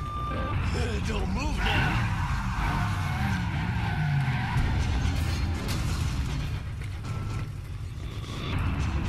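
Tyres skid and a car engine drones in Resident Evil 7, with mechanical game noise running steadily throughout. Speech is tagged but no words come through.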